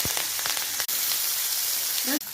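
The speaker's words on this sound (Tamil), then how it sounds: "இப்போ கடுகு உளுந்தம்பருப்பு சோம்பு சீரகம் போட்டு தாளிச்சுக்கலாம்" Mustard seeds, urad dal, fennel and cumin crackle and sizzle in hot oil for a South Indian tempering, a steady close hiss with a few sharp pops and a brief voice near the end.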